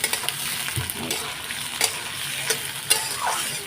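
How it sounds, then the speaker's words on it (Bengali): Onions sizzle in hot oil with a constant crackle, punctuated by a few sharp scraping taps of stirring. "পেঁয়াজটা ভেজে নিচ্ছি"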